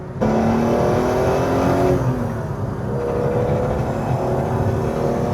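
A BMW engine rises in pitch as the car accelerates hard, a loud, close roar climbing through a gear change and settling again, heard alone with no talking.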